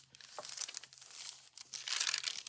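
Sheets of art journal paper crinkle and rustle up close, a run of dry crackling handling noises that swells louder toward the end, with no talking.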